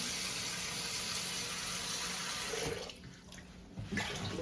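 Water gushes with strong pressure from a newly installed sink faucet, a close, steady rushing hiss that briefly dips and splashes near the end.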